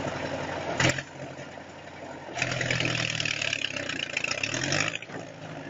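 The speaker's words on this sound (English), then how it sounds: "The DT-75 bulldozer is stuck in a swamp full of mud and snow." A DT-75 bulldozer stuck in a swamp of mud and snow, its diesel engine running steadily with a low rumble that swells into louder revving and strain for a few seconds, then eases back.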